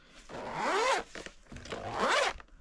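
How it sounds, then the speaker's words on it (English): A zipper runs open along a large 48-slot fountain pen case in two close, soft sweeping pulls, each rising and falling in pitch, heard alone and fairly quiet. "so the zipper is actually pretty soft"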